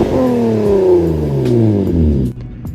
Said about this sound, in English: right off the bat is the usual, the exhaust note